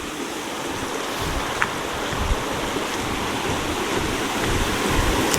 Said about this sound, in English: the water roaring out.